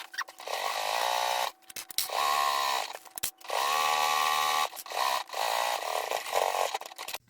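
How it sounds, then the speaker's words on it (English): A sewing machine stitches a seam on a waterproof canvas pouch in several close, whirring runs of rapid stitching, stopping and restarting between bursts, with no voices. "we're just going to sew down that side, and then we're done"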